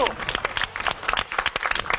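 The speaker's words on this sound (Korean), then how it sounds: "박수 박수." A studio audience on a gaming show claps after a Dungeon & Fighter combo, short bursts of clapping mixed with excited talk and exclamations from hosts nearby.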